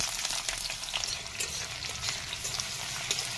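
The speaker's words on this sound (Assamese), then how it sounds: "এতিয়া পিঁয়াজখিনি ধুনীয়াকৈ লৰাই লৰাই ভাজি ল'ম।" Steady, crackling sizzle of onions frying in hot oil, close and continuous, with faint scraping stirs now and then; no voices.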